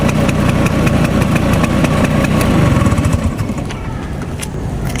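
A 2001 Vespa scooter engine idling up close, a loud, continuous two-stroke putter with a steady rough pulse, slightly easing toward the end.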